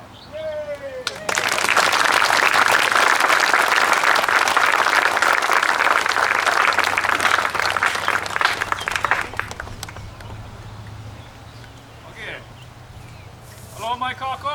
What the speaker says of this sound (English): I'll give you applause